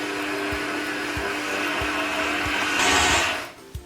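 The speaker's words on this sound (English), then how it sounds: "And back on the mixer one last time, just to get everything nice" An electric mixer whirs steadily through vegan sugar cookie dough, a loud continuous motor drone with a brief rise in pitch near the end before it cuts off.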